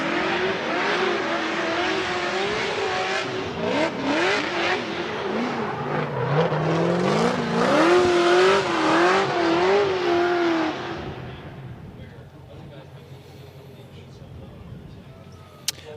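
The supercharged LS engine of a drift car revs hard and loud in rising and falling bursts for about ten seconds, then drops to a low idle while a commentator talks.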